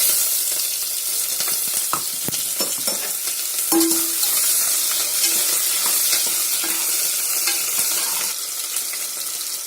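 Onions and sauces fry loudly in hot oil in a pan for vegetable rice, a dense close sizzle with repeated scraping and clinking of the stirring spoon throughout, no talking.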